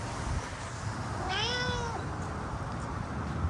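A single drawn-out cat meow, clear and fairly close, rising then falling over about half a second against a steady background noise.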